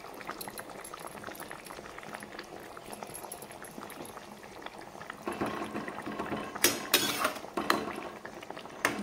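Foli fish curry with drumsticks, potatoes and lentil nuggets bubbles in a pot, starting as a faint simmer and building to louder, livelier boiling with occasional clinks toward the end.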